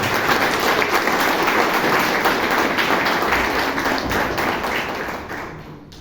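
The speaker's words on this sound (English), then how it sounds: "Can you have a round of applause for DTM?" Toastmasters club audience in Bangalore breaking into loud, sustained applause, dense clapping holding steady for several seconds before easing off at the end.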